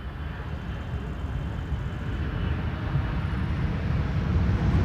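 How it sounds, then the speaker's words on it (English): An Emirates airliner landing at Schiphol on runway 18R rumbles with a broad, low, steady roar of idle reverse thrust, building slightly in level, distant and mixed with wind buffeting. "Emirates idle reversing."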